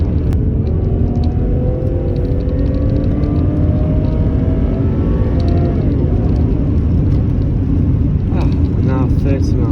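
A Rover 75 V6 automatic drives along with a steady, grunty engine drone and a broad road rumble, while rising and falling harmonic tones track changes in engine speed; no one speaks.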